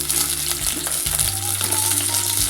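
Onions and vegetables such as drumsticks, beans and okra fry in oil for sambar, a steady close sizzle with soft stirring scrapes and no talking.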